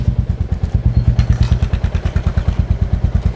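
A Royal Enfield motorcycle fitted with a performance silencer and DB killer idles with a deep, steady, evenly spaced exhaust thump, loud and close throughout.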